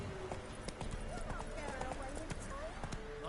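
Roach the horse's hooves clip-clop in a steady walking rhythm in The Witcher 3, moderately near, under music and a voice.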